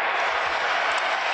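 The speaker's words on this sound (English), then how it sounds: "What an amazing crowd." A large basketball arena crowd of over twenty thousand roars and cheers after a Warriors game-winner against Boston, a dense and sustained wall of noise.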